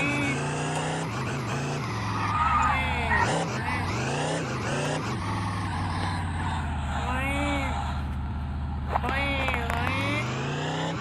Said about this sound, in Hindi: मैं कार पर भागता हूँ और किसी का पीछा करता हूँ